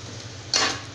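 Curd being stirred into a chana biryani mixture in a pot: a short, close scrape and clatter of a spoon against the pot, with a low simmering hiss underneath.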